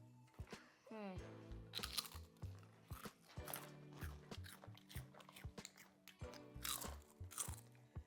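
Loud, close crunching bites and chewing of crisp Irvins salted egg chips, repeated in bursts, with a person making vocal sounds in between.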